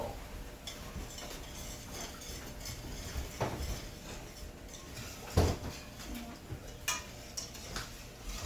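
Beaten eggs and milk are stirred in a bowl for a sausage-and-cheese omelette, with faint scraping and light clinks of utensil against the dish, plus a few sharper knocks, over a quiet kitchen background.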